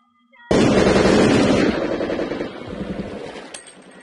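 A sniper rifle fires once in Minecraft with SDK's Gun Mod: a sudden loud blast rolls into a long, fading rumble, and a sharp mechanical click follows near the end.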